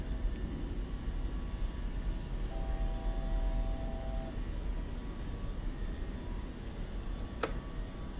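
Airliner engines in Microsoft Flight Simulator 2024 during the takeoff climb, a steady low drone that holds throughout with a faint tonal whine and one brief click near the end.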